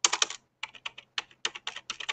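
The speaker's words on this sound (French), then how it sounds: "maintenant, je vais taper au clavier n'importe quoi" Fingers tap a computer keyboard in quick, uneven bursts of close, crisp keystrokes separated by short pauses.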